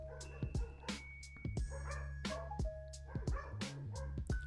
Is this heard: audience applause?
no